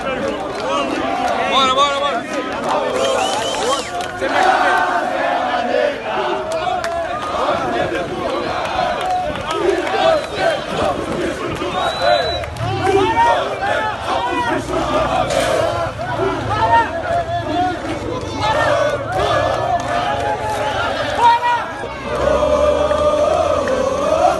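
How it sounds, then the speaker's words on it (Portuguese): Flamengo supporters in Lima greeting their team: a dense, loud crowd roar of chanting and shouting that keeps going the whole time, with voices packed close together. "a torcida do Flamengo tentando receber o time lá em Lima"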